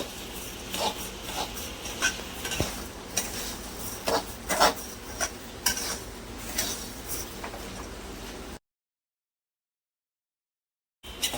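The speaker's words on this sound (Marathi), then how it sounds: "थोडे मंद गॅसवर आपल्याला हे तांदूळ भरपूर भाजून घ्यायचे आहेत चांगले तांबूस होईपर्यंत" Indrayani rice dry-roasts in a pan over a low flame, stirred with a spoon that scrapes and rustles against the metal in an even rhythm over a faint sizzle, before a short silence.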